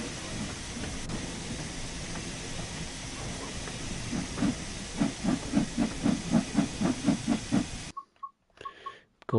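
Steam locomotive in Train Sim World 4 on a West Cornwall steam railtour, a broad steady hiss with rhythmic chuffing building through the middle, then a sudden cut to near silence with a few faint short tones.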